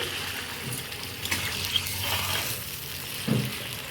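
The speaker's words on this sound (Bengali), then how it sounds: "এরপর জল দিয়ে দিলাম।" Water poured into frying curry masala for egg curry, a continuous hissing sizzle with a couple of louder splashing surges, close and without talk.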